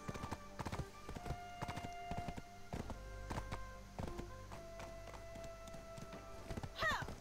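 Horse hooves clip-clop steadily in the MMORPG Black Desert Online, a close, rhythmic trot of sharp taps that runs through the whole stretch, with a brief whinny near the end.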